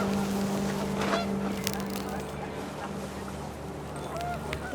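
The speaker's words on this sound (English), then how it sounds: "The wind picked up and panicked geese appeared and quickly went." Panicked geese honk in the video game What Remains of Edith Finch, a flurry of calls over wind and a steady low drone, moderately loud.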